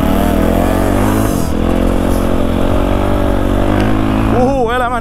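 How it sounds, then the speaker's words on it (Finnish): A Honda CFR / Redmoto 300RX enduro motorcycle engine roars loud and close during an overtake on a muddy trail, holding a steady, strong drone with a short dip, then revving up and down at the end. "Uhuu, elämäni ensimmäinen ohitus enduropyörällä."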